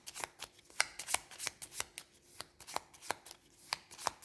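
Gloomhaven monster cards being shuffled in quick, crisp riffles and snaps, a dozen or so sharp card slaps close by and fairly quiet, with no talking.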